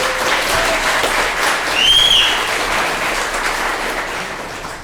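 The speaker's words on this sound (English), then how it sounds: "so we can all give Tom a big round of applause" A crowd at a motivational talk applauds Tom with a loud, steady roar of clapping, a brief whistle or squeal rising over it midway before the applause gradually tapers.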